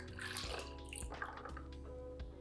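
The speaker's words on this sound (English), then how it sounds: "I'm gonna pour the hot espresso over the ice." Hot espresso poured over ice in a glass while making a pumpkin spice drink, a quiet close trickle with soft drips and light clinks over a faint hum.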